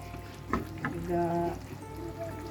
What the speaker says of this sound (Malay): Kita masukkan, gunakan 1 kotak santan.